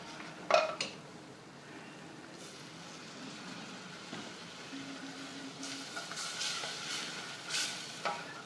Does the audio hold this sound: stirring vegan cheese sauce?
yes